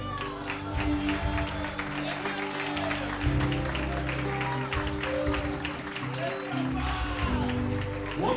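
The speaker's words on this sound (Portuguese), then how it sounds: "Aplauda Jesus." Church congregation applauding Jesus during a family worship service, a sustained crowd of clapping running throughout beneath a voice and music.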